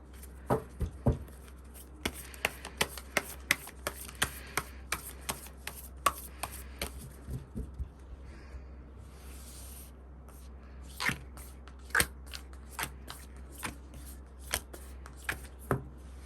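Tarot cards are shuffled and drawn in a series of crisp, sharp riffling clicks and snaps, busy at first, pausing midway, then resuming in scattered bursts over a low steady background hum.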